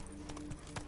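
Horse hooves clip-clop on the ground in The Witcher 3, a short, steady run of close, moderately loud footfalls with faint background game ambience.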